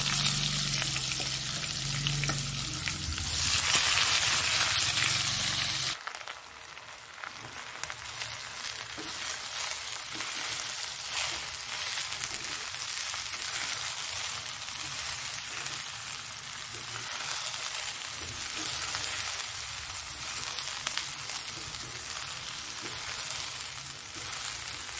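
Rice tipped into a hot pan hisses into a loud, continuous sizzle that eases slightly after the first few seconds, then keeps frying steadily and close with faint stirring.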